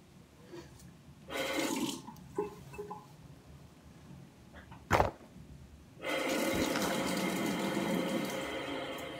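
Water runs from a tap in bursts while soap is rinsed off a face, splashing in short spells and then a longer steady stream near the end, with a sharp knock between.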